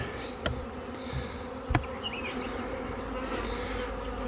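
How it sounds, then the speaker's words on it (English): A honeybee swarm hums around a hive box entrance outdoors, a continuous dense buzz with individual bees passing close by, punctuated by a couple of sharp knocks. "as you can see where I dumped the bees right there, I got some on the entrance"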